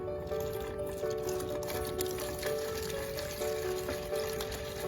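Steady rushing and splashing of fast-flowing water, continuous and close, with a faint tonal hum running underneath.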